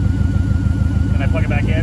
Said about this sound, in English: You hear it idle down?